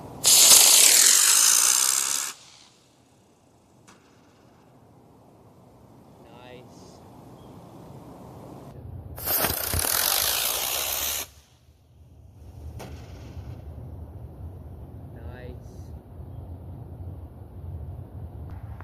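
A small monocopter rocket motor ignites and launches with a loud roaring hiss, followed by a second loud burst of rocket hiss a few seconds later, with quieter outdoor noise and a voice in between.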